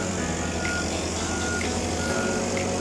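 A street cleaning machine reverses with steady, evenly spaced electronic beeps, heard over a constant loud engine drone and outdoor street noise, with no talking.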